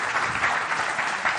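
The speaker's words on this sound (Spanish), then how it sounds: "Podemos despedir a Salvador y darle las gracias y un aplauso y comentar las 10 fotos." Audience applause after a talk at a photography session, a steady dense wash of clapping from a crowd that holds evenly for the whole short stretch with no voices over it.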